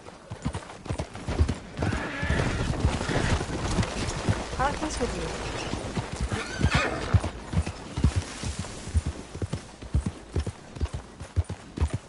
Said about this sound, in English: That's quite a horse you got.